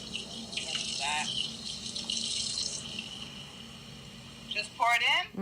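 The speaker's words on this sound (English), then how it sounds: "Now you're gonna put 2 cups of water in there." Two cups of water poured into a cooking pot of vegetables, a soft running splash under quiet voices talking nearby.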